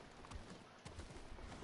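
Horse hooves in the video game Ghost of Tsushima, faint irregular clip-clop steps over low outdoor ambience, quiet and somewhat distant.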